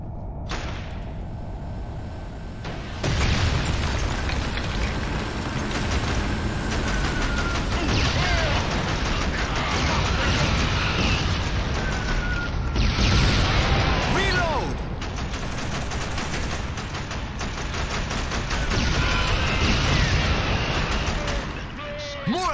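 Gunfire and explosions rattle through the video game Killzone, a long loud stretch of crackling shots, mechanical clatter and heavy booms, with shouted voices mixed in.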